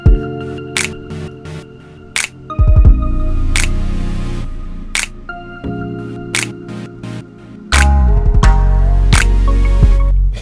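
Tweaked synth patch from a Grassamar keyboard in an R&B hip hop beat, sounding as sustained tonal chords with percussive hits over a loud, steady bass, shifting to a denser section near the end.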